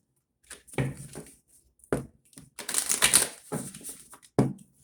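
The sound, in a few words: shuffling tarot cards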